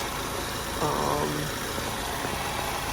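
A 2.3-liter EcoBoost engine in an S550 Ford Mustang idles with the hood open, giving a steady low mechanical hum that holds level throughout with no talking.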